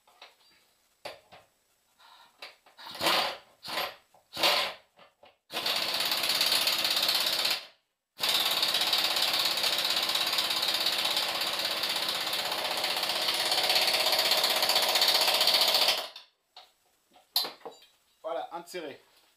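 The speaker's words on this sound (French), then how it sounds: "Hop, la clé de 13. Le pistolet à air compris. À air, là. Automatique." An air-powered impact wrench with a 13 mm socket rattles in a loud continuous burst for several seconds while tightening bolts on a Peugeot 206 S16 GTI, framed by short bursts and clanks, with brief talk around it.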